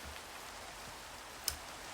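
Steady rain falls in a Minecraft world, an even hiss of drops at moderate level with a faint tick near the end, no voices.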